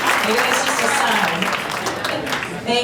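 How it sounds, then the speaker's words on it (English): Audience applause at a recognition banquet fills the room, steady and fairly loud, with voices mixed in and a brief swell near the end. "Give her an extra big applause."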